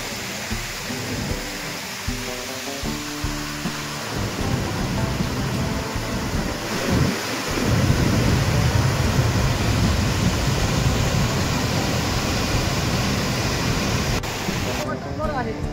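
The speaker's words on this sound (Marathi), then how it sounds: "आता आपल्या डोळ्यासमोर हे दोन्ही पण धबधबे आहेत आणि ते खूप ओसंडून खळखळून वाहत आहेत." Jaldhara waterfalls at Naneghat, swollen after days of rain, roar in a steady broadband rush that grows louder and denser partway through, with no pause.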